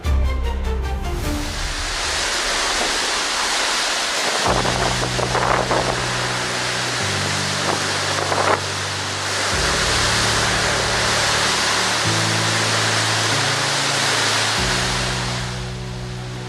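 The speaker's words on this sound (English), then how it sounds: "The storm unleashes its fury, and the wind howls" Violent thunderstorm in Ottawa with wind strong enough to snap branches off a massive tree, heard as a loud, continuous roaring rush that stays steady throughout, with low droning tones underneath and no voices.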